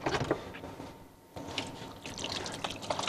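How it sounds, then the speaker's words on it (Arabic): Hands are washed under a running tap in a cooking-show kitchen, a faint steady trickle and splash of water that briefly dips before resuming, with no voices. "هلا نحن عم نغسل ايدينا عن يلي بدنا نعمله"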